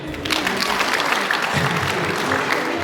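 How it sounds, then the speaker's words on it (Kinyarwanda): Loud, steady applause from a crowd at a wedding proposal ceremony, many hands clapping continuously with a few voices mixed in. "Amashyi menshi."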